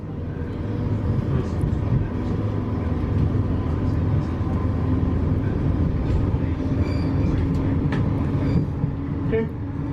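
Battery-operated Vivarail train on a London Northwestern Railway service to Bedford, heard from inside as a steady low rumble and hum that holds at an even level for the whole stretch, with faint rattles and light clicks and no talk.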